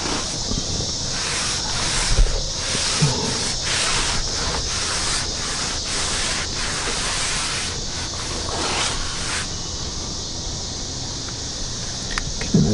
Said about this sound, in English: just a couple of sprays